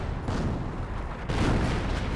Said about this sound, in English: No, that's a Commando 25-pounder barrage.